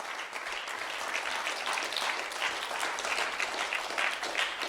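A congregation at a church service applauds in steady, dense clapping that holds evenly throughout, moderately distant and with no voices on top.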